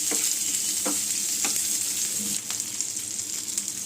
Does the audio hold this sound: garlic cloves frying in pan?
yes